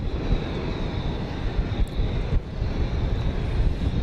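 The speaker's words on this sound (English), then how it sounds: "about to come in over the downtown, we've got flight 3610 from Orlando, a MAX 8" A Boeing 737 MAX 8 airliner on flight 3610 from Orlando comes in to land over downtown Dallas toward Love Field, a steady broad jet roar with wind rumble on the microphone, constant and fairly loud for four seconds.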